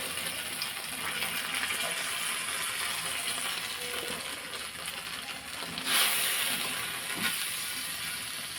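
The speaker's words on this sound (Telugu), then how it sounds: "అందులో ఇదంతా బాగా ఫ్రై అవుతుంది." Mint leaves and brown rice fry together in a pan, giving a steady, quiet hiss with a few brief clinks of a utensil against the pan partway through, close by and with no talk.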